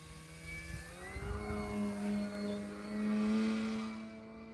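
An RC model airplane with a strong rudder flies past, its engine a steady droning whine that rises and falls in pitch as it banks, moderately distant and alone.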